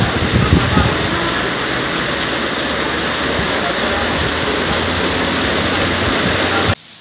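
Heavy rain falls in Natal in Brazil's Nordeste, a dense, loud, steady wash of hiss that continues evenly before cutting off abruptly near the end.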